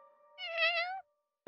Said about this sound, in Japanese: 何よ、ただの猫じゃない。